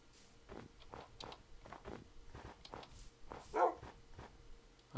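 Dogs in a video game give faint, short barks and yelps, scattered among soft footstep-like thuds, with one slightly louder bark near the end.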